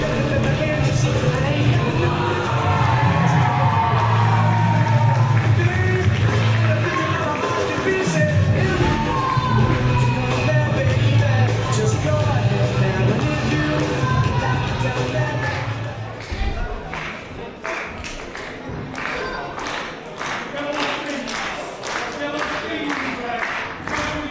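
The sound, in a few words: wrestling crowd cheering and applauding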